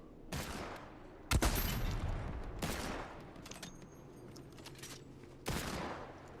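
Bursts of rapid gunfire from a weapon in the game Fortnite, in four separate volleys with pauses between them, heard near and loud with no talking.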